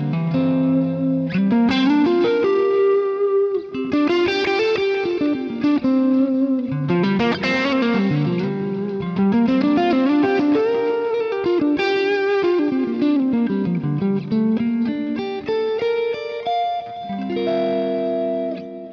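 An electric guitar played through a Line 6 Helix Vox amp model, a loud, continuous melodic line with sliding notes and chords, colored by chorus-like modulation and light reverb.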